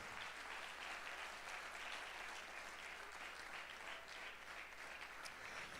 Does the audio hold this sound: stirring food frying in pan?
no